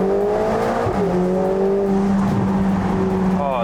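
A Ferrari Portofino M in sport mode drives on a wet road, its engine note rising and shifting through gears with a steady tonal drone, tyre and road hiss underneath, heard from inside or close by.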